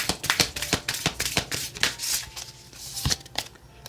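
Oracle cards being shuffled for a tarot reading give quick papery riffles and soft slaps in an irregular rhythm, close and fairly crisp, with no talking.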